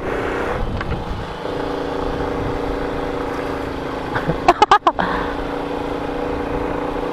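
A motorcycle engine drones steadily beneath the scene, with a few sharp bursts of revving near the end as it labors.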